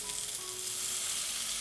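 Chopped tomato frying with sautéed onions in a pan, a steady, soft, close sizzle that holds for a moment with no talk.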